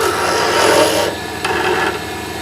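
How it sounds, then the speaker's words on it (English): A wood lathe turning a piece of wood as a roughing gouge cuts it, a loud continuous rasping scrape over a low rhythmic hum, easing in intensity partway through. "Okay, let's stop the lathe."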